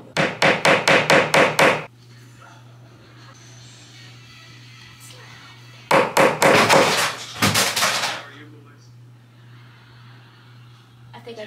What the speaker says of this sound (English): I'm just gonna like hammer this into the... Ooh, it's loud.